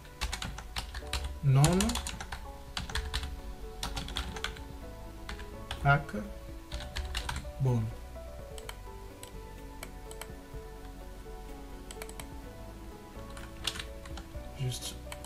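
Quick bursts of keystrokes on a computer keyboard come in short runs between pauses, close and fairly quiet, while someone talks over parts of it.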